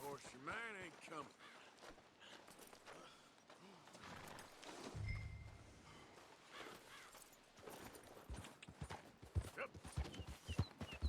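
A horse in Red Dead Redemption 2 clip-clops with irregular hoof steps near and faint and gives a brief whinny at the start, with someone talking briefly.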